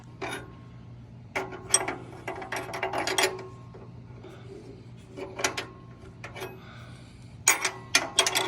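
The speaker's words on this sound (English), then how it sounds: "So I'm going to go ahead and tighten that one." Close ratcheting clicks in bursts as an 11/16 wrench tightens a bolt while assembling a Titan Fitness Squatmax, with pauses between turns and no talk.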